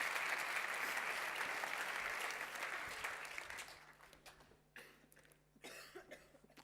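Audience applause at the VR & AR Awards ceremony at Laval Virtual 2018 rings out strongly, then fades into scattered claps and a few coughs in the quieting hall.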